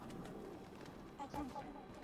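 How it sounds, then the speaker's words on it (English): Soft pigeon-like cooing from birds in the video game Mirror's Edge Catalyst, faint and low under a background wash of ambient game noise. "all the birds"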